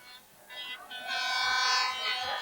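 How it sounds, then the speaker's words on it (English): Foghorns blown by supporters at a 1988 Donegal under-14 Gaelic football final, heard as sustained hooting blasts that swell and overlap at a distance over low crowd murmur. "the Kilcar foghorns are blowing on the far side"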